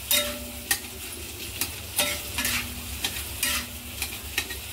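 Peeled potatoes being stirred in a pan with turmeric and salt over a low flame, a steady frying sizzle broken by repeated scraping stirs of the spoon, close and moderately loud with no talking.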